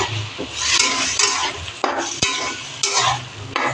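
Vegetables frying in a pan with cumin, coriander, ginger, turmeric and chilli, stirred vigorously with scraping utensil strokes over a bright hiss, with a few sharp clacks of metal on the pan.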